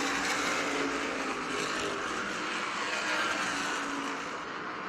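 Race cars at speed during the Icebreaker 125 at Thompson, a lead car threading past slower lapped traffic; a steady, loud broadband engine roar runs throughout with no talk.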